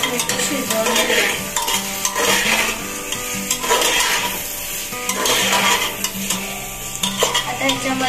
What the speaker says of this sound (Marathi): आता ह्याच्यामध्ये शिमला आणि गाजर टाकलंय, तर हे 5 मिनिट आपल्याला शिजवून घ्यायचं